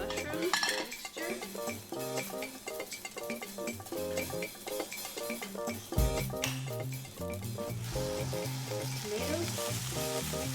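A mushroom and tomato mixture frying in a pan, a steady soft sizzle with occasional utensil clinks, partly masked by loud background music throughout.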